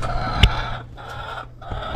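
Laying hens clucking close by, with a sharp squawk early on and softer clucks and rustling continuing around it.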